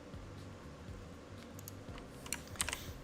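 Quiet typing on a computer keyboard during a live HTML and CSS coding session, faint soft key taps that grow into a brief flurry of clicks near the end.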